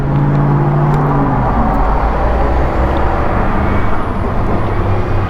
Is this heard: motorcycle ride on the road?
yes